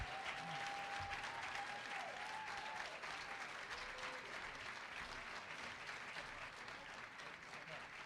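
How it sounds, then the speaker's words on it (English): Audience applause before the State of the Union address, a dense sustained roar of many hands clapping at a large indoor gathering, with a faint tonal whine and murmuring voices underneath. "Give him another round of applause"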